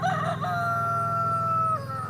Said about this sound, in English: You got the roosters crowing in the background.